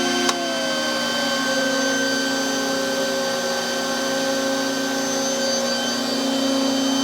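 An aircraft 400 Hz three-phase frequency converter runs at full system power-up, giving a loud, steady electrical whine with several tones and a constant hum. An early whistle glides down briefly before the sound settles, with no speech.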